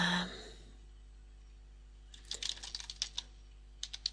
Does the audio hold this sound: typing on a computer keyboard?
yes